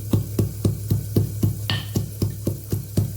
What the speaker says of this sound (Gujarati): તો આપણે અહીં લસણને ખાંડી લઈશું